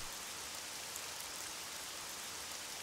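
Rain falls steadily in the video game Jagged Alliance 2, a dense, even hiss of drops that stays constant and fairly soft throughout, with no voices.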